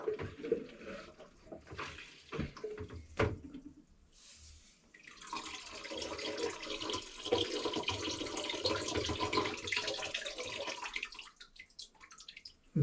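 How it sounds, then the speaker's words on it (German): Water gushes from a hand pump during a winter power outage, first iron sludge and then clear water. Scattered splashes and clanks give way to a steady rushing flow that runs for several seconds and then stops. No one speaks. "Aber den pumpt man kurz ab und dann kommt noch klares Wasser hinterher."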